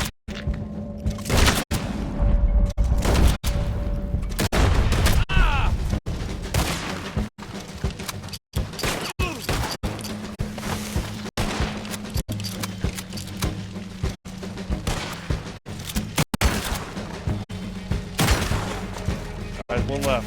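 Video game gunfire booms steadily in a long run of sharp, evenly spaced shots, heavy and close, while a voice talks underneath at times.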